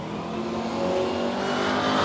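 A drag racing car leaves the starting line at a road trip drag challenge shootout. A loud, continuous engine roar builds slightly over two seconds, with no voices over it.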